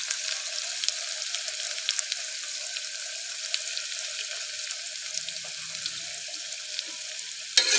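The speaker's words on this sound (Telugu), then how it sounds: "ఇప్పుడు కట్ చేసి పెట్టుకున్న ఆనియన్స్, పచ్చిమిర్చి కూడా ఇప్పుడే వేసేయాలి." Chopped onions and green chillies frying in hot oil, a steady bright crackling sizzle with scattered pops, close and continuous, ending in a louder burst.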